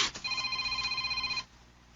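A telephone rings with an incoming call, a single rapidly trilling electronic ring lasting just over a second, fairly quiet and heard alone before cutting off.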